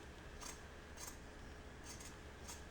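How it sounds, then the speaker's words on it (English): Sharp scissors snip through fabric trimming a curved costume piece for a Wicked Witch outfit, giving four quiet, crisp cuts at irregular intervals against a soft background hiss. "so I am trimming down pretty far, 1/8, 1/4 of an inch"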